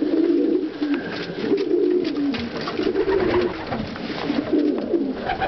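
Breeder cock pigeons coo repeatedly in a loft, overlapping low rolling calls from several birds, close and fairly loud, with a rhythmic pulsing pattern throughout.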